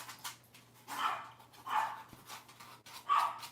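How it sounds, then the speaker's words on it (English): Dogs bark indoors in a few separate, somewhat distant woofs spaced about a second apart, fairly quiet against a low electrical hum. "The dogs."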